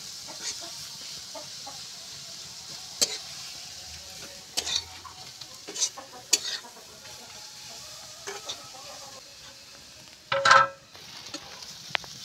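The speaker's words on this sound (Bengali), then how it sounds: "পেঁয়াজ আর রসুনটা আমি বেরেস্তার মতো আমি ভেজে নেব" Onion and garlic frying in a pan, a quiet continuous sizzle broken by a few sharp scrapes and stirring knocks, with one louder clatter near the end.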